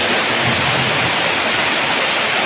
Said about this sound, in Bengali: অনেক বৃষ্টি হচ্ছে প্রচুর বৃষ্টি